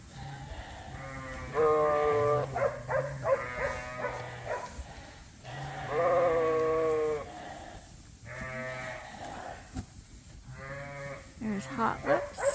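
Sheep bleat repeatedly in loud, drawn-out calls from close by while lining up to eat rolled-out bedding, with quieter farm background and occasional voices between the cries.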